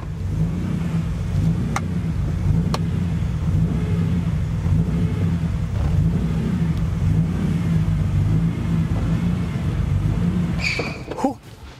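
A custom BMW E30 M3 fitted with an S54 engine rocks back and forth with the clutch feathered, its steady low idle rumble continuous and close, ending in a short rev and a few clicks.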